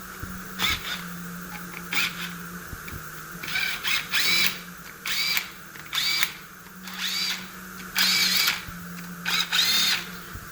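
A power drill loosens valve cover bolts on a Volvo SI6 3.0T/3.2 engine, whirring in repeated short bursts of about a second each with pauses between, close and loud, no talk.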